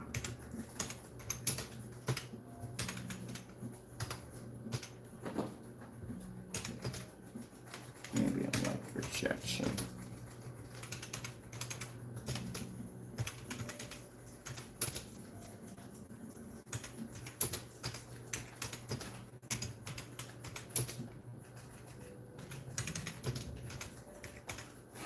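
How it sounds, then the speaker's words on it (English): Keys clatter on a computer keyboard in irregular bursts of close, light taps, with a person talking over much of the typing. "I'm typing this whole thing in there, ain't I?"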